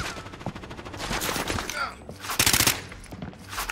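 Gunfire in a Call of Duty multiplayer match, with bursts of automatic weapon fire and a louder close volley partway through, mixed with game effects and brief voices.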